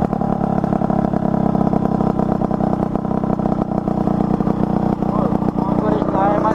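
A Yamaha RD 135 motorcycle engine runs steadily during break-in, with a close, continuous buzzing idle and faint revving, while people talk over it.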